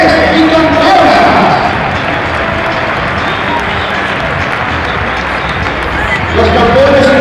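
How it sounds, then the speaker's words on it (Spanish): Loud, dense crowd applause with cheers fills a football stadium during an honor lap for youth league champions, steady throughout, with an announcer's voice rising near the start and end. "Un fuerte aplauso para todos nuestros y nuestras campeones y campeonas."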